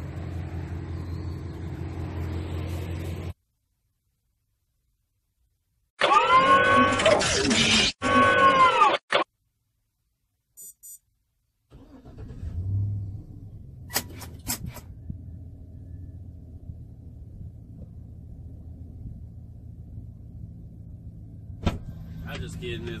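A pickup truck idles after a remote start, a low steady engine rumble coming in after a stretch of silence, with a person talking over it and a few clicks and bumps.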